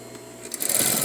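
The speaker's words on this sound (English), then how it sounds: "we're edge stitching on the fold right here" A sewing machine edge stitching along a fold of fabric, its steady rapid whir swelling louder halfway through and running on without a break, with no talking.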